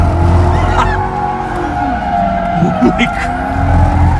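A car on a Las Vegas police-chase driving course corners hard with a sustained, close tire squeal over the engine drone, then the skid fades as it spins out.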